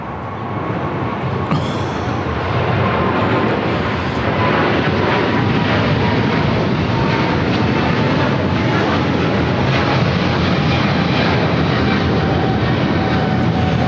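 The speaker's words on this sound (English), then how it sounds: "China 988 taking off to Beijing on a 777-300ER" A Boeing 777-300ER rolls for takeoff at LAX, its engines building to a loud, sustained jet roar that fills the whole stretch with only a brief lull near the start.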